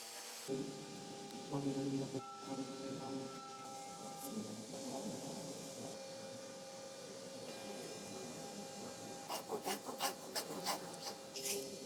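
Hand sanding the edges of a large wooden Moorish ceiling art piece, a dry rasping rub in strokes, close and quiet, with a few sharper scrapes near the end.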